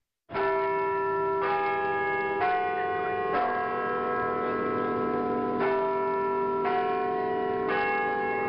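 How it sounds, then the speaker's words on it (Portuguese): A deep clock bell tolls the hour of midnight in slow, evenly spaced strokes, each ringing on into the next, loud and close with no voices. "soaram as doze badaladas"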